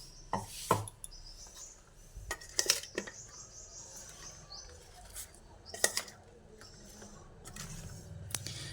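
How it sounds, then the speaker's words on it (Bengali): A spoon scrapes and clinks in a bowl while mashed flat beans are mixed with mustard oil and a little water, giving scattered light taps and clicks against a quiet background. "প্রথমে আমি চামচ দিয়ে একটু মিশিয়ে নিচ্ছি"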